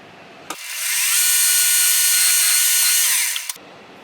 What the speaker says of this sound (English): Now I'm just use the spotting drill and we'll start our drilling process